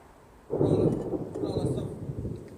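Steady rain pours down during a thunderstorm, a broad loud wash that swells in suddenly and holds, with a low rumble of thunder beneath it and no talking.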